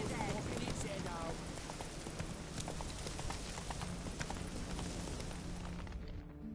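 Hooves of the horse Roach clip-clop at a steady trotting rhythm in The Witcher 3: Hearts of Stone, close and continuous beneath game music and ambience, with a voice speaking over part of it.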